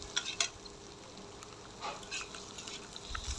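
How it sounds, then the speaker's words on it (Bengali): A spatula stirs bitter gourd and potato stir-fry in a pan, giving soft scrapes and light sizzling in a few scattered bursts, fairly quiet and with no talking. "এখন আবারও নেড়ে দিব।"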